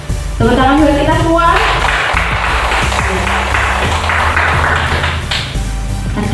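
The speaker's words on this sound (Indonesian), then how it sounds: "Tepuk tangan buat kita semua." Audience applause fills a school presentation room at an elementary school in Batudur, a dense wash of claps starting with voices and a melodic tone, mixed with speech throughout.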